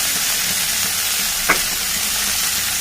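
Cluster beans frying in a pan with curry leaves, giving a steady, even hiss throughout with one brief louder crackle midway, no talking.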